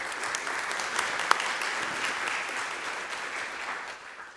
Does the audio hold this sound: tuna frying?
no